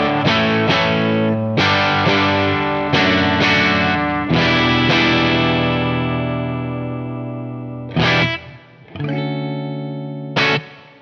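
An electric guitar on its bridge P90 pickup at full volume, with distortion and chorus, plays loud strummed chords that ring out and slowly decay, with a few sharp fresh strikes near the end and no talking.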